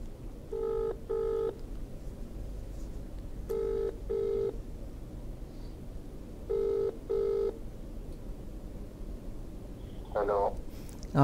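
An outgoing phone call rings after being dialed, with three paired double-ring bursts spaced a few seconds apart over a faint background hum. A brief, sharper tone follows near the end, just before the call connects.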